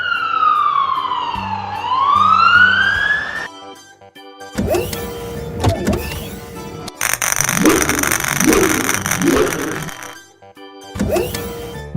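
A police car siren from an animated black police car wails in rising and falling sweeps at the start, loud and close, followed by other toy-like effects and bursts of sound.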